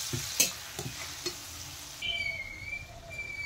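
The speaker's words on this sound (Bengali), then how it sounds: "দেখেন মশলা ভাজা হয়ে গেছে, এখন আমি দিয়ে দিলাম কুচনো টমেটো।" Chopped tomato dropped into a pan of fried spices for an egg curry, with a quiet steady sizzle and a few soft stirring knocks early on.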